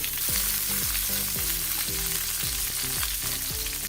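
Stuffed capsicum frying in a covered pan, a steady loud sizzle filling the sound with repeated clatters and scraping as the peppers are turned, no talking.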